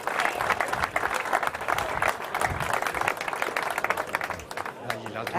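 Audience applause at an amateur football awards gala, steady dense clapping that holds for several seconds and thins slightly near the end, with voices mixed in.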